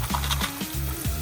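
Onions fry in a pan with a cinnamon stick dropped in, giving a steady close sizzle with stirring noises and no talking.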